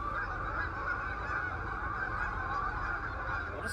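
Migrating geese honking over a lake at Malone Rec Park in Malone, New York, a dense, continuous chorus of many birds calling at once, loud and steady without pause.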